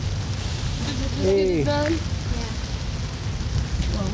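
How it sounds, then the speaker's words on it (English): Steady rain falls outdoors as a constant wash of patter, with people talking briefly over it. "Shooting this video in the rain."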